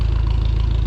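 A Minneapolis Moline tractor engine idles steadily at close range, a low, even rumble with a regular pulsing throb and no change in pace across the short stretch.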